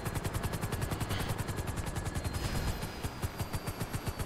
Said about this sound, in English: Oh, fuck. My helicopter's gonna crash.